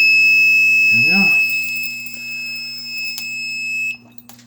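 A zone fire alarm panel beeps with a steady, continuous high-pitched tone heard from some distance across a building while someone talks over it, and the tone cuts off abruptly near the end.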